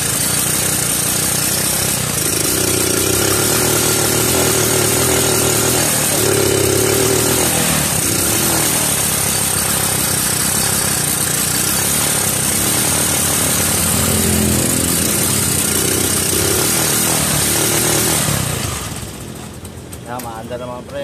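A Motor Star 155 motorcycle engine runs after starting, a loud, steady close-range chug with uneven revving, then quickly drops off near the end. People talk over it.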